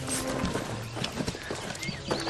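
A horse moves about, its hooves clip-clopping in a quick, busy rhythm among other close sounds.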